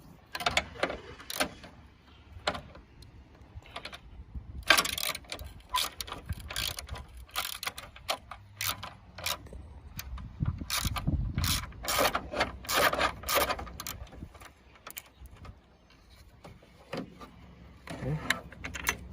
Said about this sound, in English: removing the 13mm bolt right here that holds the horn. 13mm socket